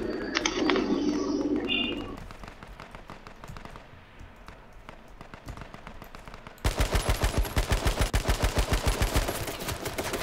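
Gunfire in H1Z1 King of the Kill: scattered distant shots at first, then a loud sustained burst of rapid automatic fire in the final seconds, with a bird-like cooing sound early on.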